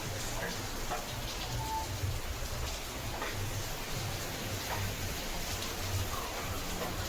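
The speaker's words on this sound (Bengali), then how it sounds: "ভালো বৃষ্টি হচ্ছে" Heavy rain falls steadily outdoors in September, a continuous dense hiss of drops with faint ticking on nearby surfaces, moderately quiet and unbroken throughout.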